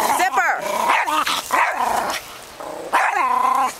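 A toy fox terrier and a Neapolitan mastiff bark and growl at each other in quick, loud bursts close by, with a person's voice calling out between the snarls.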